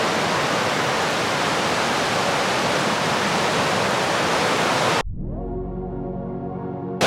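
Forest waterfall in Norway roaring as a dense, steady rush of water, loud and close for about five seconds before cutting abruptly to a quieter, different scene.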